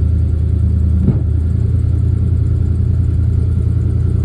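Tractor engine labours steadily at close range, a constant loud mid-pitched drone while straining to pull a stuck 1968 Imperial Crown Coupe, with one brief knock partway through.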